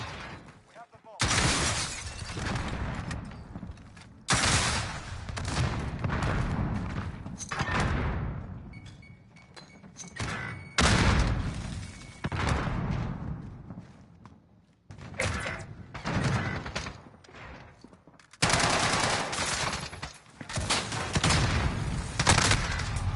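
Gunfire in Call of Duty Modern Warfare 2019 comes in loud, dense bursts of automatic fire with breaks between volleys, close up, mixed with clattering impacts and speech.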